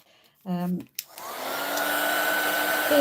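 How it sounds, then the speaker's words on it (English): A heat emboss tool switches on after a brief hum and click, then blows hot air in a steady, close whoosh that rises slightly in pitch as it spins up, with no talk. "it's going to be a bit noisy because I'm going to now bring in my heat"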